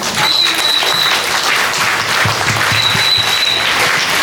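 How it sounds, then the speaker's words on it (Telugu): A crowd claps throughout at a school Independence Day flag-hoisting event, dense and sustained applause with faint whistle-like tones, loud and close. "మా తరఫున ఒక బిగ్ రౌండ్ ఆఫ్ అప్లాజ్ అందరికీ కూడా"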